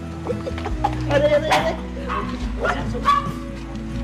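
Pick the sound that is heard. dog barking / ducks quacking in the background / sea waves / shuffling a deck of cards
dog barking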